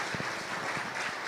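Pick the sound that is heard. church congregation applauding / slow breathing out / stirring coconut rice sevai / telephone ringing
church congregation applauding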